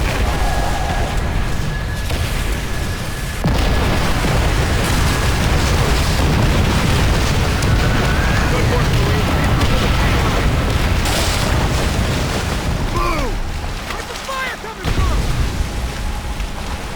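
Rocket strikes pound Japanese defenses and armor in Call of Duty: World at War, a dense, continuous wall of booming explosions and rumbling blasts that stays loud throughout, with a brief dip before the barrage resumes.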